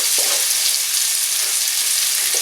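A loud, continuous sizzle of onions sautéing in a pan, with faint stirring sounds now and then.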